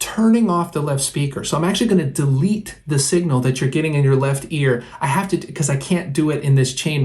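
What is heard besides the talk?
None of the usual background noises is heard.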